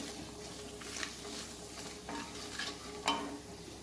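Vegetables for upma, including ginger, beetroot and cabbage, sizzle and fry in a pan. A steady soft crackle runs under occasional stirring scrapes, with one sharper clink near the end.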